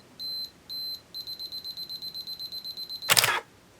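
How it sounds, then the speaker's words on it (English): Canon EOS 33 (Elan 7) 35mm film SLR self-timer: two longer electronic beeps, then a quickening run of short beeps, ending in a loud mechanical shutter and mirror clack, close up and with no talk. "press the shutter button to start it, and it's going to finish its cycle"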